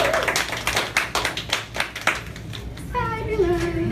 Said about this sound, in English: why is everybody clapping?